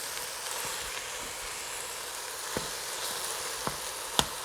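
Ground beef sizzling in a pan for black bean chili, a steady hissing fry with a few sharp pops and spatters rising near the end, close and moderately loud.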